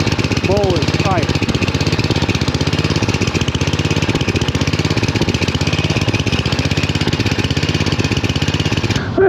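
A Tecumseh engine on a snow blower runs close by at a steady, loud, chugging idle with a rapid even thump throughout.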